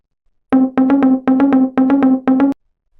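A looping electronic video game music phrase with an extra layer added, quick rhythmic plucked notes, busier, playing alone for about two seconds.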